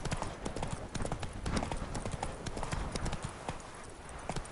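Geralt's horse Roach in The Witcher 3: Blood and Wine trots along with steady, close clip-clop hoofbeats in a brisk, even rhythm, fairly quiet with no voices over it.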